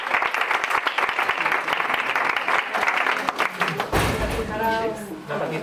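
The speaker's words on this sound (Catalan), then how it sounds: "Una fort aplaudiment per ells." Applause from an audience at a music school recital, greeting a young pianist and his family; dense clapping fills the first four seconds, then fades into a short piano passage.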